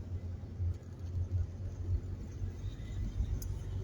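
Steady low rumble from inside a car driving alone at night, a continuous engine and road drone with no talking.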